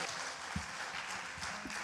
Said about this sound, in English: It's so great to hear clapping.